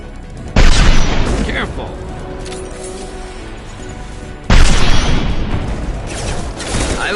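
Sniper rifle fire in the Mass Effect 2 video game, two loud booming shots several seconds apart, each followed by a lingering rumble, with a voice calling out between them.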